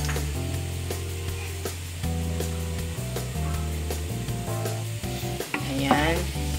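Garlic browning in a pan for chicken adobo, a steady close sizzle with a low hum and some scraping stir sounds, heard alone without speech.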